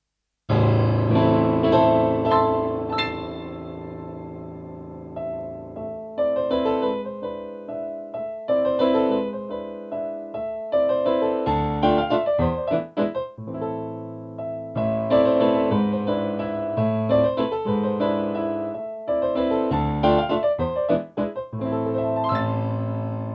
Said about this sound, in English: this is the sound of the Shigeru Kawai EX Concert Grand piano.